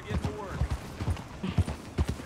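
Horse hooves clip-clopping in a steady galloping rhythm in Red Dead Redemption 2, close and moderately loud, with a person talking over the hoofbeats.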